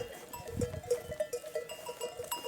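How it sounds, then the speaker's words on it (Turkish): A Kırıt breed sheep bleats faintly a few times amid quiet farmyard background noise, with soft rustling and no talking. "kırıt cinsi bir koyun bu. Kırıt ırkı."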